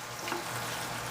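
Garlic browning in hot oil in a pan gives a steady, soft, close sizzle that runs on without a break and has no voices over it.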